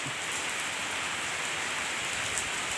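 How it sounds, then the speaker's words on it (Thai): Steady rain falling, a dense even hiss of drops on surfaces, constant throughout with no voices. "ฝนตก"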